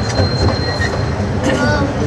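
A train rolls past at close range with a steady loud rumble, wheels squealing in thin high tones over the roar, and a voice speaking briefly beneath the noise.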